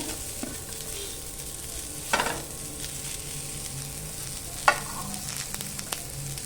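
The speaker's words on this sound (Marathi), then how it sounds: "आता आपण कांदा आणि लसूण सुद्धा छान असं भाजून घेऊया" Chopped onion and garlic sizzle in hot oil in a pan on low heat, a steady frying hiss broken by a couple of louder scraping stirs, with no talk.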